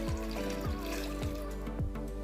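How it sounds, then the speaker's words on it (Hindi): A glass of water is poured into a pressure cooker holding meat, onion, tomato, ginger-garlic paste and spices, making a steady close trickle and splash over a low continuous hum. "अब हम इसमें 1 गिलास पानी डालेंगे"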